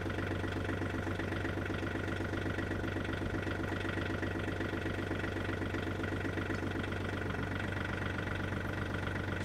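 A John Deere 3035D tractor engine idles steadily in neutral with the PTO engaged, a continuous close mechanical drone with a low rhythmic pulse and a fixed whine, unchanged from start to finish.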